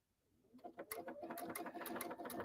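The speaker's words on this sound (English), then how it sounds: "you can see I'm sewing sideways" A sewing machine stitches sideways and at angles, starting quietly and building into a fast, steady run of rhythmic mechanical clatter, close and alone.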